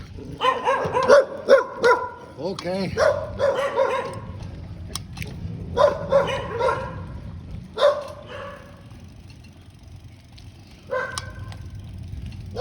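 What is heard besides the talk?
dogs barking in Thailand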